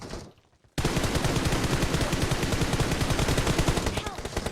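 Sustained automatic gunfire in PUBG Mobile: a dense, loud, rapid-fire stream of shots erupts after a brief quiet start and hammers on steadily to the end.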